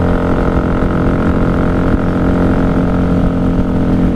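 A 1994 Honda Magna 750 V4 engine drones steadily at speed on a night highway, a loud, close, constant motorcycle roar with wind noise and no talk.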